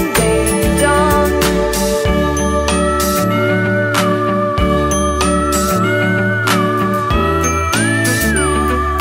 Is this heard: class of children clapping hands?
no